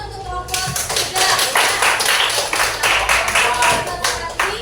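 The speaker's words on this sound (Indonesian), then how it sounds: "tepuk tangan untuk kelompok 3" A class claps for a student group in a classroom, with a burst of many hands clapping together. The clapping is close and lively and continues for several seconds.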